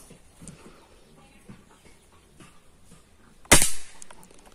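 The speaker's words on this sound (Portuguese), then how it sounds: "Vou dar outro tiro sem mexer aqui pra ver" A single sharp Rossi rifle shot cracks loudly at a target during scope adjustment outdoors, a sudden close report with a short decaying tail, amid quiet rural background with faint birds.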